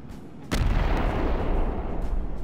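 A HIMARS rocket launcher fires in Garry's Mod with a single loud, sharp launch blast. A dense roar follows and sustains at high volume to the end.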